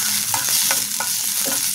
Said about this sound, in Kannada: ಈರುಳ್ಳಿ ಇದನ್ನೆಲ್ಲ ಹಾಕ್ಕೊಂಡು ಹೈ ಫ್ಲೇಮಲ್ಲೇ ಇದನ್ನ ಫ್ರೈ ಮಾಡ್ಕೊಳ್ಬೇಕಾಗುತ್ತೆ.